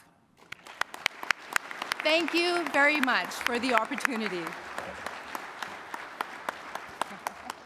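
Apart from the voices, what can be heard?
audience applause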